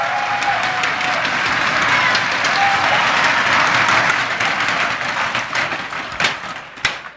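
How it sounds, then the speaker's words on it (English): An audience at a 2012 GSTL StarCraft event applauds two Blizzard employees with sustained, dense clapping that fills the room, then thins out into scattered claps near the end. "Give them an applause."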